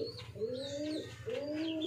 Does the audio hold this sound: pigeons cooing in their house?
yes